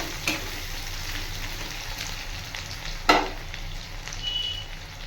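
Fish deep frying in hot oil gives a steady, soft sizzle and crackle throughout, with a couple of brief sharper pops or stirring clicks and no speech.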